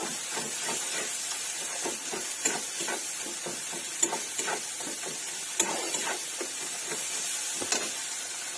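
Vegetarian curry made without onion or garlic sautéing in a pan, a steady close sizzle and hiss broken by regular scraping stirs and occasional sharp clicks of the utensil.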